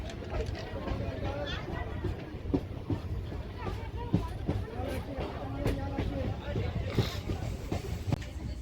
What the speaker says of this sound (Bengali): তো ফাইনালি কিন্তু ট্রেন আমাদের এসে পৌঁছে গেছে নামখানা স্টেশনে